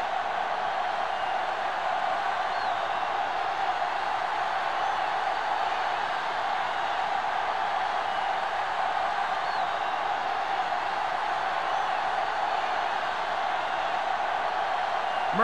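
Large stadium crowd before kickoff of an Eagles vs Giants football game, a dense steady roar of cheering that never lets up, broad and distant-sounding.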